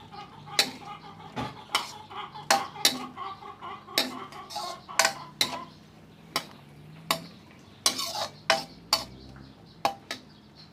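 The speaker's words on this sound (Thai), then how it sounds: "แล้วก็เราจะคนๆนะคะ คนให้มันเข้ากัน" Spoon clinking against a pot while stirring Thai curry with oyster sauce and fish sauce, irregular sharp ticks and scrapes, close and fairly quiet, no voice.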